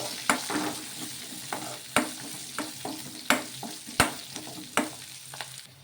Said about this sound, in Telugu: అలాగే ఇందులోకి కొంచెం కరివేపాకు కూడా వేసుకొని ఒకసారి బాగా కలిపేసుకుందాము పచ్చిమిర్చి ఇవన్నీ కూడా కొంచెం మగ్గించుకోవాలి